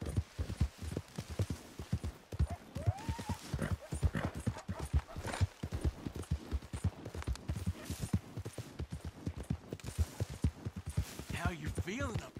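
Horse hooves clip-clop in a steady riding rhythm in the video game Red Dead Redemption 2, close and prominent, with voices talking over the hoofbeats at times.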